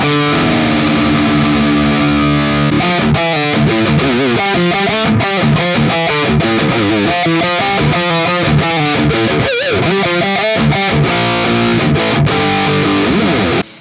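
Heavily distorted electric guitar through a Soldano amp model on a Boss IR-2, playing chords and riffs, loud and continuous, with a thick saturated tone and no voices.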